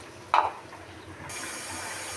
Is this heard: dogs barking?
no